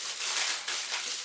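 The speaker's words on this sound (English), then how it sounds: "So I've got some tin foil here." Tin foil crumpled and folded tightly around a haggis, a steady close crackle of crinkling foil with a brief pause in the middle, no voices.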